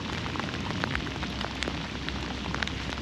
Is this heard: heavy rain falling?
yes